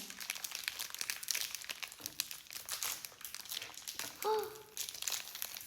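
Crinkly plastic jelly candy wrapper being opened, bursts of crumpling and crackling over a few seconds, close up, with a faint voice and a brief tonal sound near the end.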